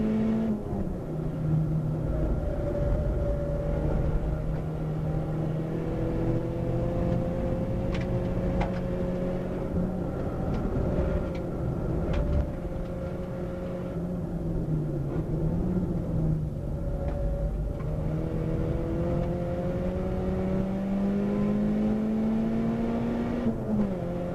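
A Nissan Sentra SSS race car engine revs hard and steadily throughout, heard from inside the car during a 2kcup circuit race, with a rising and falling drone as it shifts and accelerates.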